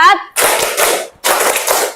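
Bursts of hand clapping in a school classroom ice-breaking game, two loud sustained rounds of many hands clapping together, each following a brief spoken count.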